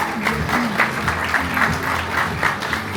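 Applause from an audience at a live show in a bar, the Horseshoe Bar, a close, lively patter of clapping running throughout with some crowd murmur.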